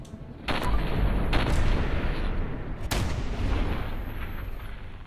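Gunfire at a Glowing Deathclaw in the Fallout 4 video game, with a steady roar of shots and a couple of sharper, louder blasts standing out near the start and middle.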